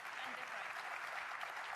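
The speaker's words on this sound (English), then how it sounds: "Gets a round of applause for the break and for owning up to the foul." Snooker spectators at the Riyadh Masters applaud a break and a player owning up to a foul, steady, moderately distant clapping filling the short stretch, with a commentator's voice faintly beneath.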